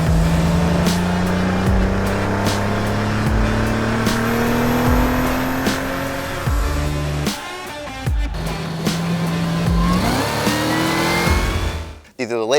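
A Cadillac CT4-V or CT5-V Blackwing sedan runs hard on the Pitt Race track in Pittsburgh, Pennsylvania. Its engine drones loudly and rises in pitch through repeated gear shifts, with brief dips between pulls and a tire squeal near the end.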